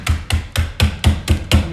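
A rolling pin repeatedly smashes crackers for s'mores pinwheels, seven sharp, evenly spaced thuds with crunchy crackle in quick succession, loud and close, with no talking.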